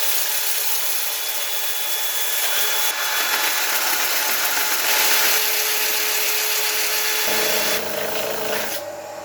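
Steady, loud abrasive whir of a spinning lathe with sandpaper rubbing against an ash wood bowl, continuous throughout with a slight change in tone near the end.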